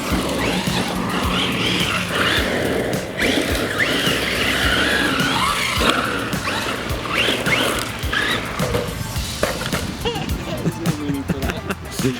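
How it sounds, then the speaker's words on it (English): Traxxas Rustler 4x4 VXL and Arrma Vorteks 3S BLX radio-controlled cars slide around outdoors, with continuous tire skidding and whining electric motors that stay loud and busy throughout. "Both cars are fun to slide around and take off jumps, and both handle reasonably well with a bit of practice."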